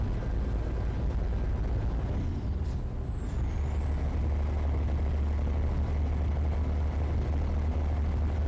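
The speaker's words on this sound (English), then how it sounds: "this engine here, I like the sound" A truck engine runs steadily in American Truck Simulator, a constant low rumbling drone that stays even and close throughout, with a faint high whine sweeping briefly in the middle.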